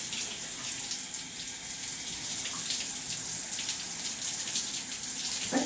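Cold shower water running steadily during bathing, a continuous broadband hiss of spray with no break or talk.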